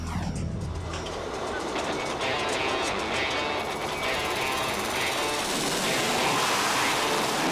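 Harrier jump jet roaring off the ski-jump deck of the Royal Navy carrier HMS Illustrious, a loud sustained jet blast that swells and grows harsher as it takes off, with no talk over it.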